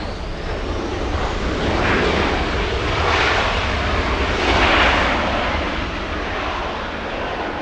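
A Qantas airliner on final approach at LAX roars past close by, a broad loud rushing engine noise that swells and peaks twice mid-pass and then eases, with no talk.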